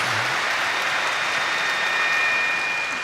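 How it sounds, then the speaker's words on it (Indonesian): Audience applause for a mother at a gathering, a steady, even wash of many hands clapping at moderate volume, continuous with no voices on top. "Ya, semua tepuk tangan untuk mamanya."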